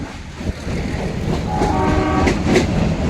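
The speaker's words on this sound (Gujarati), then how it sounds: "ઉનાથી આપણી ગાડી નીકળી ગઈ છે" A metre-gauge train pulls out of Una station on the Junagadh–Delvada line: a loud close rumble of wheels and carriages builds, with a horn blast sounding over the rolling clatter partway through.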